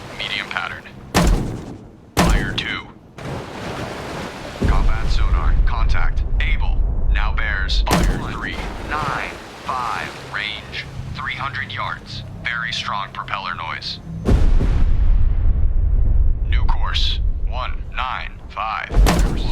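Deep thuds and booming blasts from depth charges in the submarine-hunting game Destroyer: The U-Boat Hunter. Several sharp hits are followed by longer low rumbles, with spoken commands and radio chatter mixed throughout.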